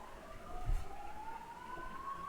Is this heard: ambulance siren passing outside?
yes